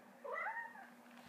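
A cat gives a single clear meow, rising then falling, close and quiet against a faint steady hum.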